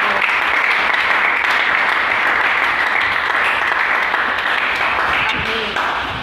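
Loud, dense applause from a church congregation fills the space for several seconds and holds steady before easing slightly at the end, with some voices mixed in.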